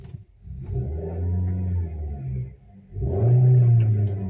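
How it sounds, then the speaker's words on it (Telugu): A used Hyundai i20 engine starting and revving twice, a steady mid-pitched hum that swells, dips, then rises again to a louder rev, heard up close with no talking. "సో ఒకసారి వెహికల్ కూడా స్టార్ట్ చేద్దాం."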